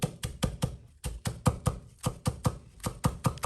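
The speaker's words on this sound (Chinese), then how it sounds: "用刀切碎" A knife chops scallions and ginger on a board in quick, even strokes, about a dozen close, crisp taps in a steady rhythm with one short pause, with no talking.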